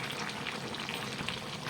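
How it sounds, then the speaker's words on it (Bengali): Meat boiling in a pot, giving a dense, continuous bubbling and sputtering that stays steady and close throughout, with no speech. "মাংস বুদবুদি উঠতেছে মানে এটা মাংসটা অনেক সিদ্ধ হইতেছে"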